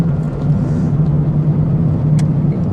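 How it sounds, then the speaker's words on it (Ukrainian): Car driving slowly at under 40 km/h on a sandy secondary road in Zaporizhzhia, a steady low engine hum and road rumble close inside the cabin, with one brief click. "Спокійно їду, не розганяюсь, тримаюсь по швидкості в межах 40 км, трошки менше навіть"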